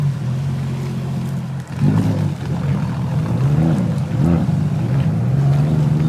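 A jet ski engine idles and revs on the water near Kanchanaburi, a steady low throbbing drone with a couple of brief throttle swells, close and loud.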